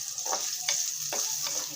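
Two chopped onions frying in a modest amount of oil in a pan, a soft steady sizzle with several brief scraping stirs spaced through it, fairly quiet and with no talking.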